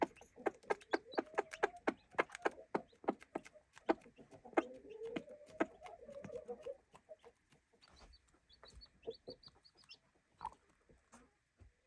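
A mother hen clucks softly and repeatedly in a low, rhythmic pattern, joined by faint high peeping of her chicks, quiet and close.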